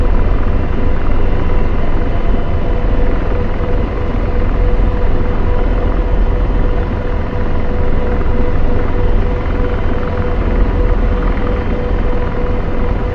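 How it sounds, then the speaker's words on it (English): An AH-64D Apache helicopter lands in the DCS flight simulator. A loud, continuous engine and rotor roar holds steady throughout with a dense low rumble and no talking. "Definitely not how to land a helicopter."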